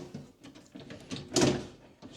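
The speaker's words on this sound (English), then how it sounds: "Now let's put our drawer in." An IKEA Aurdal closet drawer slides into place: a series of soft scraping and knocking sounds, building to one louder rubbing thud as it settles, close up with no talking.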